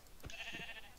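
A sheep bleats once in the video game Minecraft, a short nasal call standing out clearly over a steady background of game ambience, with no talking.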